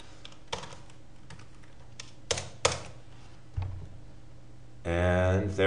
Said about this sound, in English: So we need to type year.